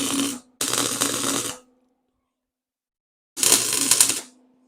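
MIG tack welds on the body panel of an S10 Blazer, with three bursts of steady crackling buzz, each about a second long, separated by silent gaps.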